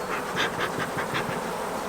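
A steady, dense buzzing of many honey bees close by at a hive, with a pulsing drone that rises and falls continuously.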